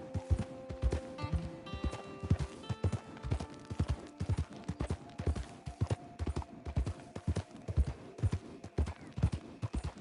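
Horse hooves clip-clopping at a brisk, steady rhythm in Red Dead Redemption 2, close and clear, with faint tonal game sounds underneath.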